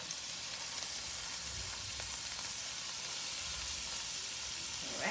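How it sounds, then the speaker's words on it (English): Vegetables with garlic and peppers sizzling in sesame oil in a pot for fried rice, a steady close frying hiss throughout with faint stirring. "you can hear our pot simmering with that sesame oil."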